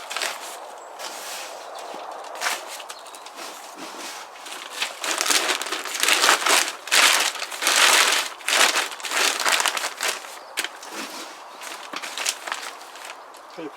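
Compost rustles and crunches as it is scooped and tipped into a potato grow bag outdoors, with irregular scraping bursts that swell and fade, fairly close, under quiet background.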